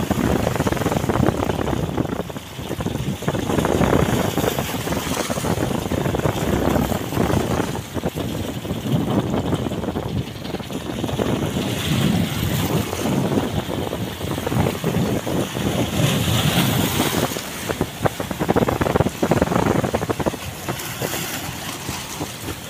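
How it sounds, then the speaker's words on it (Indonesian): A small fishing boat slowly enters Tegal Sari harbour in Tegal, its engine a steady low rumble mixed with wind buffeting and water noise throughout, fairly loud and continuous. "Ini juga kapal masuk lagi, kapal kecil. Ini kecepatannya lambat."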